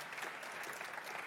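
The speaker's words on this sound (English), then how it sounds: "good round of applause, please, for those guys" A crowd applauds steadily, dense clapping from many hands filling the short moment at a moderate distance.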